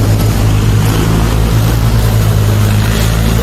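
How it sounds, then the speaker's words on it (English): A lawn mower engine in a video game drones loudly and steadily, a constant low motor hum with little change through the stretch. "Fastest mower in the game. Shifting gears and everything."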